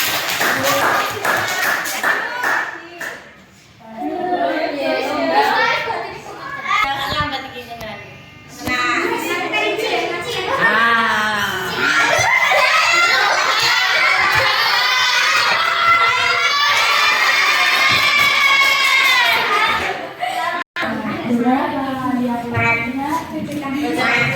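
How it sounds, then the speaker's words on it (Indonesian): Children in a classroom clap and cheer in loud, sustained bursts, with shouting and chatter mixed in as a crowd of young voices fills the room. "Oke, kasih tepuk tangan."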